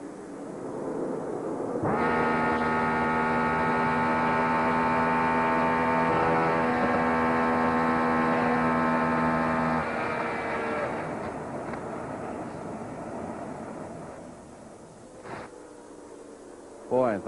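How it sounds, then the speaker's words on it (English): A 1998 Indianapolis 500 Indy car engine lets go on the front stretch, with a loud sustained droning, tonal roar lasting several seconds before it fades into quieter crowd and track ambience. "He inherited that position when Tony Stewart's engine blew on the front stretch"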